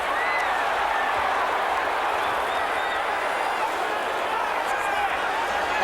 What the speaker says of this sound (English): Listen to the crowd now, Barry.